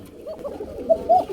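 Soft, low pigeon coos from a nearby bird at a pigeon farm, two short rounded calls close together near the end of a brief stretch of quiet.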